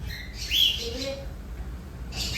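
A few bright cockatiel chirps and squeaks ring out close by in a pet shop, short and separate, with a quieter call in between.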